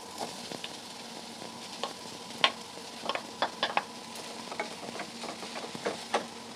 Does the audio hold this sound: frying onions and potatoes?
yes